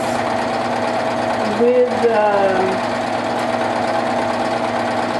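A two-needle cover stitch sewing machine runs at a steady, close mechanical whir that keeps going while someone talks over it.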